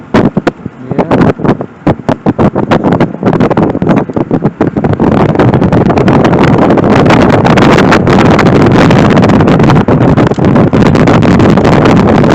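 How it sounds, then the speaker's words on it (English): Loud, steady wind buffeting roars past a car driving the Cabot Trail in Cape Breton, Nova Scotia, in October, with sharp gusty bursts early on settling into a constant rush. "Window up. Windy."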